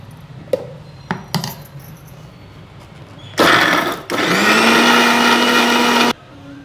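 A kitchen mixer grinder whirring loudly as it grinds a spicy seasoning paste for a village-style field bean curry, preceded by a few sharp clicks and clatters, then a brief pause before a steady high-pitched grinding run that stops abruptly.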